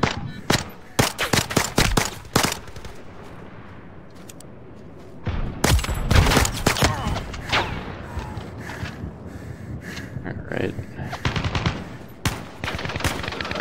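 Gunfire in the Zero Caliber 2 video game aimed at a tank, loud bursts of rapid shots in clusters with a quieter pause near the middle, then more scattered cracks and volleys.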